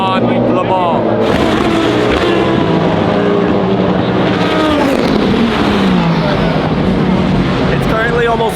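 Race cars at the 24 Hours of Le Mans sweeping through a corner at night, loud engines roaring and rising and falling in pitch as several cars pass one after another close by, with crowd noise behind.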